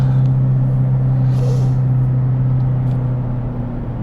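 Interior drone of a 2020 Ford Fusion cruising on a commute, a steady low hum and road rumble that holds even throughout, with no talking.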